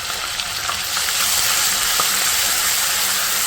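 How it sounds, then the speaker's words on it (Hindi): Garlic ginger paste fries with onions in a pan for butter chicken, giving a steady close sizzle and crackle that swells slightly after the first second and holds, with no one speaking. "इसको थोड़ा सा भून लूँगी ताकि लहसुन अदरक का जो पेस्ट है उसका कच्चापन दूर हो जाए"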